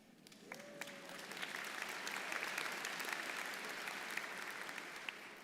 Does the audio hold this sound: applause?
yes